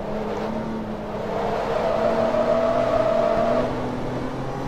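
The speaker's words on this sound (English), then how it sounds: "I hear Rossi's car just fucking screaming behind me" A race car engine screams close behind in Forza Motorsport 2, a steady, loud high-revving whine held for several seconds over the player's own car noise.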